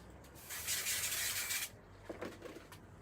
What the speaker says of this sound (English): So I'm going to use a bit of spray glue for speed.